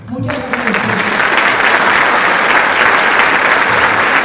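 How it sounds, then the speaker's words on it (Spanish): Audience applause for the panelists at the close of a morning panel on regulating conflicts of interest, a dense, steady clapping that rises after a brief opening voice and holds loud to the end. "Fuerte el aplauso para nuestros panelistas de esta mañana."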